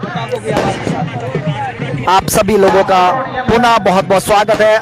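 Firecrackers burst in sharp, loud cracks among drums at an outdoor girls' kabaddi match in Solan, crackling repeatedly and densely over the second half beneath someone commentator's continuous speech.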